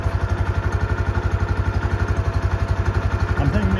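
An engine on a race car idles steadily at close range after a rebuild, a loud, even, throbbing pulse with a slight rise near the end.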